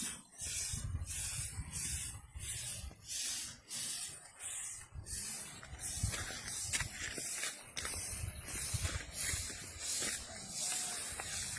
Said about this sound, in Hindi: तेईस एकड़ बैगन फील्ड रे स्प्रे चली